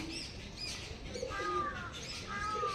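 Pigeons coo in a loft in winter, soft repeated calls mixed with a few chirps and a light flutter, fairly faint against a steady background hiss.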